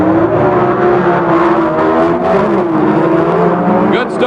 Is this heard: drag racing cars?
yes